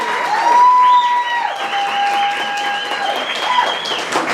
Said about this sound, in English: So a big round of applause for Bank of Texas, Mr. Eli Mercado.